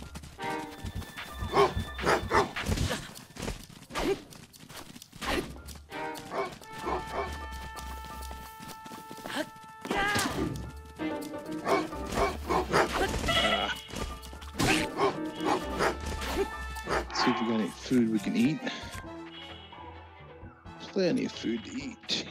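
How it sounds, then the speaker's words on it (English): Coyotes in Zelda: Breath of the Wild bark and yip in short bursts between the clip-clop of horse hooves and game music, with a person talking over much of it. "Man, Coyote's getting up on us already."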